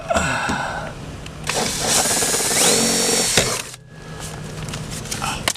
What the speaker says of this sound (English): drill one up here now.